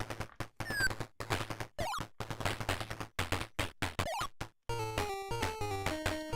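Gunfire in an Intellivision video game: rapid electronic blips and buzzy shot bursts in choppy repeated rhythm, followed by a short descending tone sequence, loud and close, with no voices.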